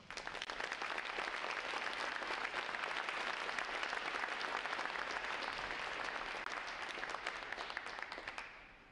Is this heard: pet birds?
no